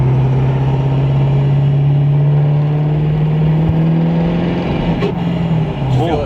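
A pickup truck fitted with an S400 turbo kit pulls hard, a loud steady engine drone holding a constant tone with a rising whir, cabin-close, before easing off near the end.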